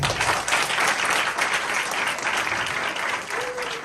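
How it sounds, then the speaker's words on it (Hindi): A church congregation claps vigorously during a healing sermon, producing a thick, continuous wash of applause that stays strong throughout, with faint voices mixed into the noise. "फिर जोरदार तालियां"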